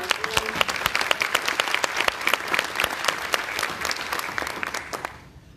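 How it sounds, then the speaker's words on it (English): A conference audience in Washington, D.C. gives steady, dense applause that fills the room for several seconds before tapering off at the end. "Let's give him a round of applause."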